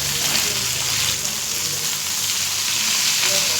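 Fish frying in hot oil, a dense, loud, continuous sizzle and crackle heard up close without a break.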